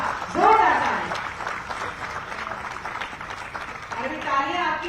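An audience at a Jharkhand government employment event claps, with bursts of applause and cheering that rise and fall under a voice speaking loudly over a PA.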